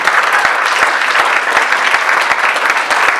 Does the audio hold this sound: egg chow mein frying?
no